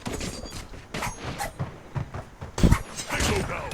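Gunfire in a Call of Duty match: irregular bursts of shots crackle through the clip, with one loud, heavy blast near the end standing out above the busy game noise.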